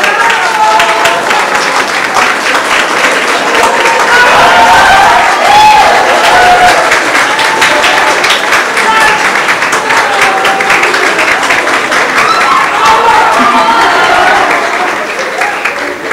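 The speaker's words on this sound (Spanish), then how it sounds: "Un aplauso, por favor." An audience at an honorable-mention award ceremony in Loja applauds for about sixteen seconds, a loud, dense wash of many hands clapping that holds steady and then starts to taper at the end.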